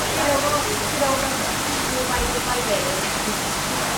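Water pouring steadily from a supplemental filtration shower above a koi tank's sump, a dense continuous splashing hiss held at an even level throughout, with faint voices in the background.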